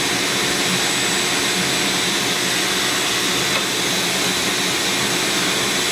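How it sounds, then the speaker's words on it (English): An ordinary Ridgid shop vac from Home Depot runs continuously while cleaning a pellet stove, a loud, steady whooshing roar with an unbroken motor whine and no pauses. "This vacuum cleaner is just an ordinary rigid shop vac I picked up at Home Depot"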